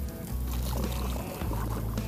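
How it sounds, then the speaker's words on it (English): A kayak paddle pushes through a dense patch of lily pads, giving soft continuous swishing and sloshing water close by, quiet and steady with no voices. "I gotta paddle through a forest of lily pads"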